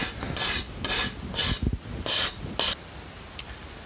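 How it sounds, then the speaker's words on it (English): A card scraper works a rounded wooden bow edge, smoothing away rasp marks in a run of six or so short, close scraping strokes with brief pauses, then one faint final stroke. "I'm going to clean up the rasp marks and make that rounded edge smooth with the card scraper"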